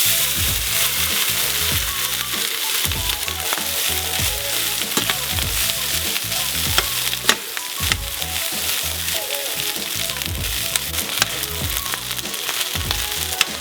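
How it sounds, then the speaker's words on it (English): Rice sizzles and fries steadily in hot oil in a frying pan on a stove, with a continuous crackle and occasional stirring scrapes throughout, close and fairly loud with no talking. "I put my frying pan on the stove and I put a little oil in it, get it hot, and then I put my rice"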